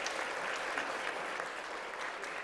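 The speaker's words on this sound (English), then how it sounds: "give a round of applause to our great servers who" Steady, dense applause fills a luncheon hall as a holiday audience claps for the lunch servers, continuous and full throughout with no voices on top.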